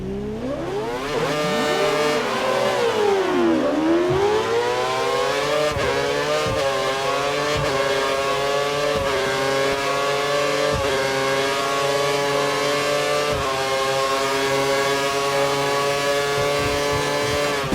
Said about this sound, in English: You used the KERS and DRS to good effect and were able to pass the car.